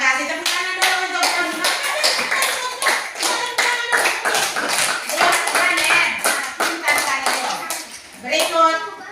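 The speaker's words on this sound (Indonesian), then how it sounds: "tepuk tangan dulu untuk" Schoolchildren clapping in a classroom, with quick, sharp claps in a fairly regular rhythm, close and fairly loud, while children's voices and talking come through alongside the clapping.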